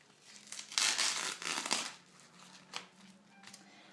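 A layer of a hygienic sanitary pad is peeled away from its plastic packaging, giving quiet crinkling and tearing rustles in a couple of short bursts followed by a few fainter crackles, with no talking.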